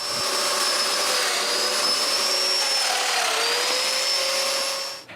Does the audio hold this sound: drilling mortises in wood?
yes